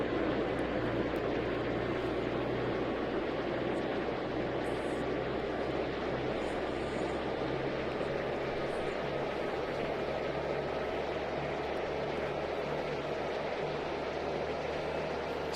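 Cathay heavy airliner taking off from JFK runway 13 right in the Tower!3D Pro air traffic control game, a steady broad engine roar held at a constant level throughout, with no speech over it.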